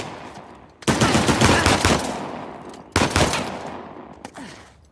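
Bursts of automatic gunfire in the video game Uncharted: The Lost Legacy, two loud rapid volleys close by, the second shorter and tailing off, with a faint shot after.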